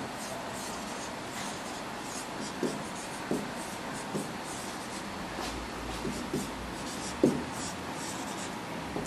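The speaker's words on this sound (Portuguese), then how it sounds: "Então eu só vou desenhar um pedacinho" Marker or chalk drawing a DNA strand diagram on a board, faint scratchy strokes and occasional taps spread over a quiet room tone.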